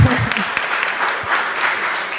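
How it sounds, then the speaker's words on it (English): Audience applause at an ocean decade conference in 2024, a steady wash of many hands clapping that carries on throughout, close and fairly loud, with a few brief voice sounds at the start. "I want to give a very big applause to our artist today, Patricia."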